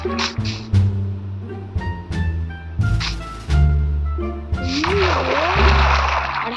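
Water splashes and sloshes in bursts in Minecraft, over game music with steady tones, with a voice talking over parts of it.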